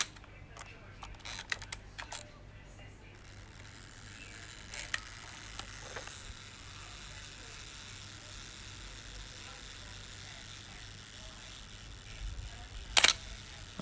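A Rolleiflex SL35 ME 35mm SLR camera's self-timer runs with faint ticking, then the shutter fires in a single sharp mechanical click near the end, close up, over a quiet room.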